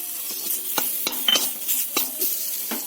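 Spices and chili powder being stirred into potatoes in a frying pan for tomato and onion chops, with a steady sizzle broken by several sharp spoon scrapes and clinks against the pan, close up and without speech.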